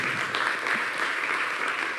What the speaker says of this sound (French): on vous applaudit à nouveau chaleureusement